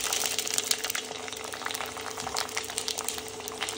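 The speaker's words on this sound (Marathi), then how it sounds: "तर हे बघा, मी पापडी सोडते तेलामध्ये." Potato and sago papadi wafers frying in hot oil, a steady dense crackle and fizz of bubbling oil filling the whole stretch at an even level.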